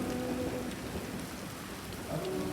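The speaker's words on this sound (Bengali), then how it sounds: "রাতে বৃষ্টি, সকালে রাস্তায় বন্যা," Heavy rain pours down at night in Tabuk, Saudi Arabia, a dense, steady hiss of drops beating on surfaces that holds an even loudness throughout, with no voices.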